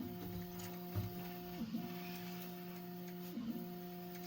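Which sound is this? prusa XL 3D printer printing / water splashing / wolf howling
prusa XL 3D printer printing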